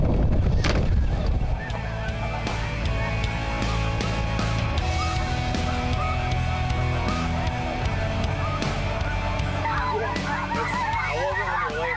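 Geese honking loudly as flocks fly in, a dense continuous chorus of overlapping calls heard across the whole stretch, with steady wind rumble underneath.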